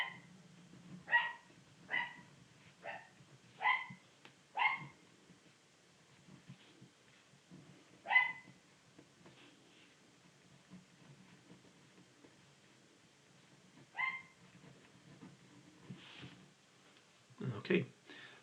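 A dog barks in short sharp bursts indoors, a cluster of quick yips early on and scattered barks later, moderately close, with a voice talking quietly in between.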